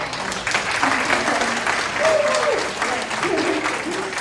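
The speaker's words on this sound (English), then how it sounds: "she deserves a big hand of applause" Applause from the audience at a community group meeting, a steady patter of clapping under which a voice briefly continues speaking.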